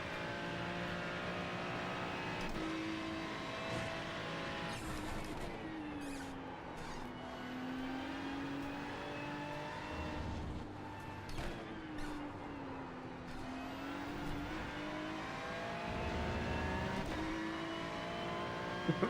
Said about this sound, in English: I just hear a Mercedes appear.